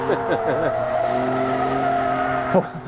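A Ford Mustang convertible slides with its rear end out, its tires squealing in long wavering tones over the engine's drone, loud and close, ending with a brief thump.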